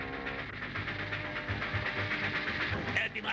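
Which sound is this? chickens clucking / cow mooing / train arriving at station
train arriving at station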